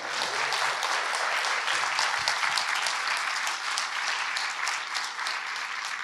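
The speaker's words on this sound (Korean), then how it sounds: "나오실 때 큰 박수로 보내주시기 바랍니다" Loud, sustained applause from a talk-concert audience as a historian walks onto the stage, continuous clapping close and full from start to finish.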